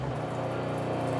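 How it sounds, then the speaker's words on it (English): A freshly installed water pump runs with a steady, fairly loud hum, and water can be heard moving under it, with no talking. "So I just got the water pump in. Now it's time to try it."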